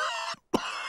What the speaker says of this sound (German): Oje, Dr. Braunbär hat sich mit Pedros Husten angesteckt.